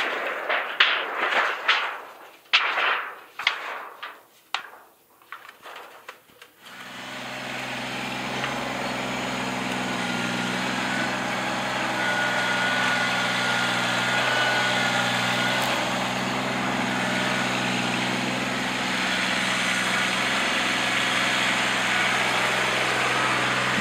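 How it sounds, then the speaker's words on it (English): A tractor engine idles and revs steadily while pulling material out of a garden bed, a few sharp knocks and clanks at first, then a continuous droning hum close by. "scrape it off with the tractor bucket"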